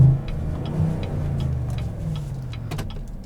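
A 2017 GMC Sierra All Terrain engine, idling in neutral, gives a short low rumbling rev that swells and then settles back, heard alone and fairly close.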